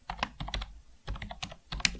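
Quick bursts of computer keyboard typing, close and crisp, arriving in uneven clusters of key presses separated by short pauses, with no voices.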